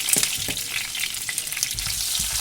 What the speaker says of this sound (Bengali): আলুটা নাড়াচাড়া করে ভালো করে ভেজে নিলাম